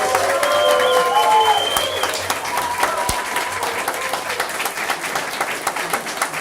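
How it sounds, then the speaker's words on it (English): A crowd breaks into loud, sustained applause with scattered cheers and whoops, gradually settling into steady clapping. "I want the biggest round of applause"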